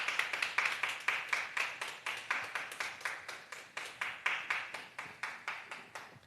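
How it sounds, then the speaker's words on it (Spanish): Church congregation claps in a steady, fast rhythm of sharp claps, sounding somewhat distant and fairly quiet, with no talk over it. "dale un fuerte aplauso al Señor."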